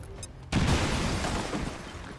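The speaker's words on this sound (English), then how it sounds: "I hate using grenades this way" A grenade explodes in the turn-based tactics game XCOM, a sudden loud blast after a brief quiet lead-in, followed by a long rumbling tail of debris and noise.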